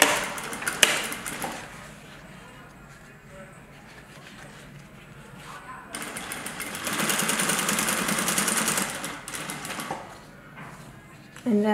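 Sewing machine stitching along the angled edge of a fabric tool roll with dark thread, running in bursts as a quieter whir and then a louder, steadier stretch, under intermittent talk from a nearby speaker.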